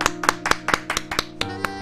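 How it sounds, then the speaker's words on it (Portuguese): A small group clapping for a school director at a graduation diploma ceremony, about eight distinct, sharp claps in an uneven rhythm, close and fairly loud, then tapering off. "Salva de palmas para Ana Paula."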